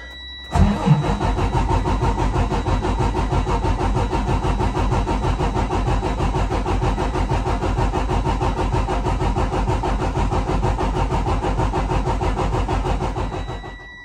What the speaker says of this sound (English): You did not crank the engine, or you stopped before it was finished.